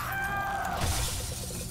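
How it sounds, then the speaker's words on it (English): A hand mirror cracking and shattering, a sharp burst of breaking glass that rings briefly and then fades into a dull wash, set against a dark, tense backdrop. "the mirror shatters and everything falls silent"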